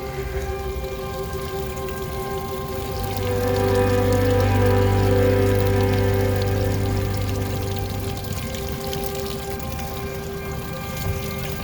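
Water drains out of a vehicle after a river crossing, a continuous splashing and trickling flow over a steady low hum, swelling louder in the middle before easing back.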